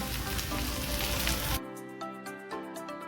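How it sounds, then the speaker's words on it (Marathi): Garlic prawns fry in a pan over medium heat, a loud hiss for the first half that abruptly drops to quieter crackling with a few faint clinks. "आता इथे प्रॉन्स मीडियम गॅसवर चार ते पाच मिनटं फ्राय करूया"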